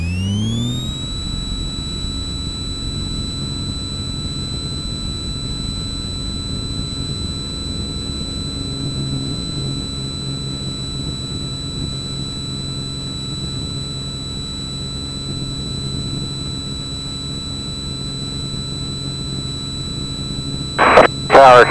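An Extra 300 aerobatic aircraft engine runs at full throttle on takeoff, a steady loud high-pitched drone with rising whine, holding constant for about twenty seconds before a brief crackle of radio noise at the end.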